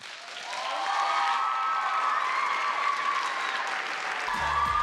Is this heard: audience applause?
yes